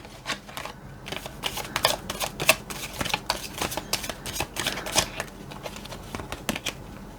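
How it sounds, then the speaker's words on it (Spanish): Tarot cards are shuffled and drawn close by, giving a run of soft, papery flicks and snaps in an irregular rhythm. "Vamos a sacar ahora ya las cartas para esta semana"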